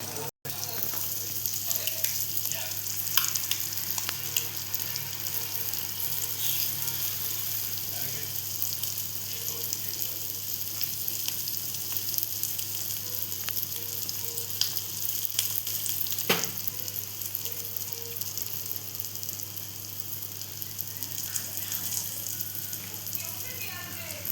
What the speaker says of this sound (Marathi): आणि आता ह्याच्यात आपण फ्राय करायला टाकूया